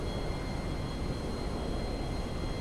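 Steady, droning propeller engine of the Alkonost plane in GTA Online during an aggressive Cayo Perico heist setup, a constant broadband roar with a faint high whine and no talking.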